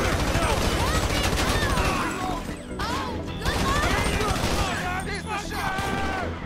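Heavy gunfire erupts in a GTA-style river flood role-play, loud repeated shots and crashing impacts mixed with shouting voices and game effects throughout.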